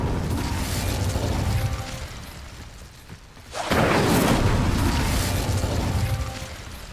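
A fire spell cast in Hogwarts Legacy bursts out with a loud whooshing boom, following a brief dip after an earlier rumbling stretch, then a sustained fiery roar that slowly fades.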